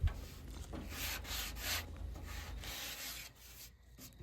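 Sanding filler glaze on a 1970 GT pedal car body with 220 to 240 grit paper, a soft rhythmic scratching rub in repeated close strokes, fairly quiet, pausing briefly near the end.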